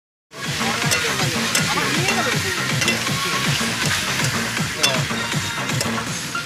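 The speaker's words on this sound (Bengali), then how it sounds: "মাংস রান্না চলছে" Meat fries in a pot at an outdoor picnic, with steady loud sizzling and repeated rhythmic scraping strokes of stirring throughout.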